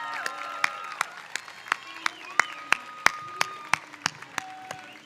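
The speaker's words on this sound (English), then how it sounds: "Let's give them all a round of applause." Audience at a university medical school commencement ceremony applauding steadily, dense clapping throughout with a few sharper individual claps standing out, moderately distant in a large hall.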